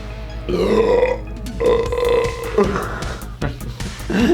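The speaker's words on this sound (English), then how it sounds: "Are you burping? I am." A person burps loudly and close, several drawn-out belches in a row, with brief talk in between.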